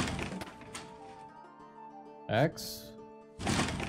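A few chopping blows land on an object in the Castle Flipper renovation game, a short burst of impacts after a stretch of speech, with talk before and after the hits.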